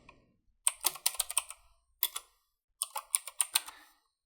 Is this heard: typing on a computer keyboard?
yes